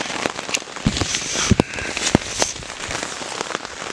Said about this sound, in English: the rain did not ease up. In fact, it got a lot worse